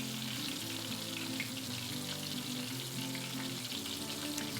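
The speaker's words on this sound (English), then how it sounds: "you can kind of tell what's going on by the amount of bubbling, sizzling that's still going on" Steady, crackling sizzle of catfish frying in hot oil, with dense bubbling and popping that carries on without a break and no voices.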